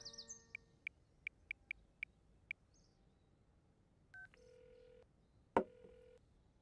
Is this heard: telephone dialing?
yes